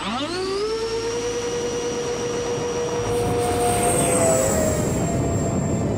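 A Su-47 forward-swept-wing model jet aircraft taking off, its turbine spooling up into a steady, loud whine that rises in pitch and holds, with the roar swelling slightly as it pulls away.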